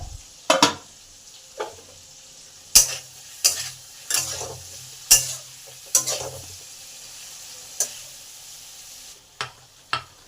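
Potato and pointed gourd pieces frying in a pan, a low sizzle broken by about a dozen sharp scraping stirs at irregular intervals, close and clear with no speech.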